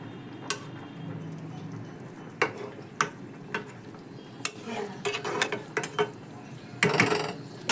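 A spatula stirs fish curry in a pot, pushing the fish pieces down into the simmering gravy. It gives intermittent scrapes and sharp metallic clinks that cluster toward the end over a low bubbling background.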